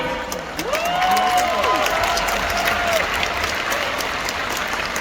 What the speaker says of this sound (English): give me a cheer if you or one of your team walked last night